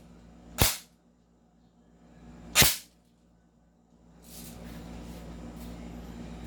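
An upgraded airsoft HK416 rifle in Dark Earth colour fires during a chrono test: two sharp, loud shots about two seconds apart, followed by a steady low background hum.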